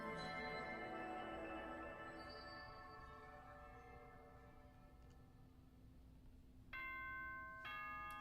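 A ding-dong announcement chime from Danganronpa 2 rings out in clear, ringing bell-like tones that slowly fade, followed by a second, brighter set of chime notes near the end.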